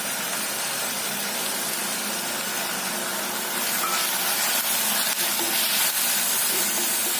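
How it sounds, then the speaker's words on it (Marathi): Onion, garlic and soaked moong dal sauté over low heat for a spinach-stem bhaji, giving a continuous close hiss and sizzle that swells slightly toward the end. "मंदाचेवर थोडा वेळ हे छानसं परतून घ्यायचं"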